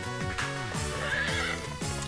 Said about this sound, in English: Oh, you gonna miss with the horse attack?